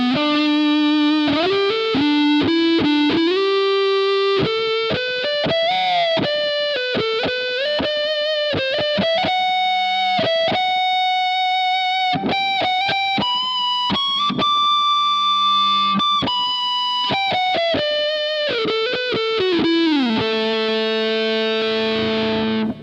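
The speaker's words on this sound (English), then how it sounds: "this is what I tend to use for leads. It's a bit more creamy, and distorted." A Fender Musicmaster electric guitar plays a creamy, distorted lead line, sustained bending notes and quick runs ringing out loud and alone with a touch of reverb.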